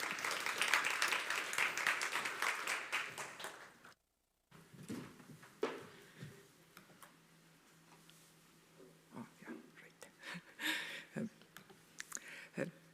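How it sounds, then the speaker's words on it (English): A conference audience applauds, a dense patter of clapping that stops abruptly after a few seconds, followed by scattered claps and faint room noise. "to join us with a round of applause"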